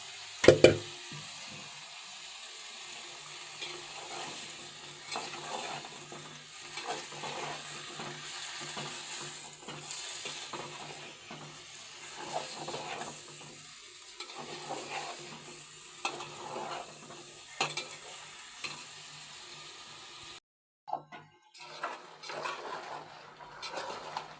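A mixed vegetable curry of radish, flat beans, tomato, carrot, cauliflower and potato sautés in a pan with a steady low sizzle, while a spoon stirs and scrapes through it in irregular strokes, close up and without talk.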